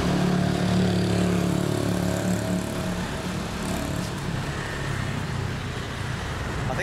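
Traffic idles at a set of traffic lights in Bali, a steady low engine rumble from several vehicles filling the scene without a break, loud and close, with no clear rise in revs.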